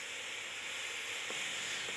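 A household steam generator hisses steadily while sterilizing homemade seed-sowing compost, a constant broadband rush with faint sizzling crackle, close and even throughout, no voices.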